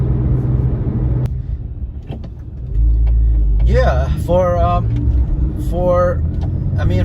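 Porsche 997 sports car on a Sunday morning neighborhood drive, its engine a low steady rumble that swells partway through, with someone talking over it.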